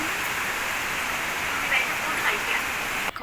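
Rain falls steadily in the evening at a Kerala home, a continuous even hiss with faint patters, fairly close and without anyone speaking.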